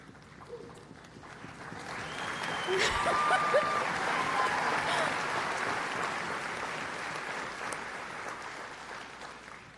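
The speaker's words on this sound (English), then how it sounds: "Thank you for the applause." Sustained applause from an audience at a Charter College of Education event, swelling after a couple of seconds and holding steady, dense clapping filling the space with no voices over it.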